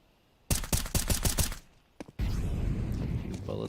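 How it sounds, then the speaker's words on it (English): Rapid rattling gunfire bursts from Counter-Strike, a quick string of close, loud shots followed by a brief pause, a sharp single crack, then a steady wash of game noise and distant effects. "Bullets rattled off there by Fang into the smoke."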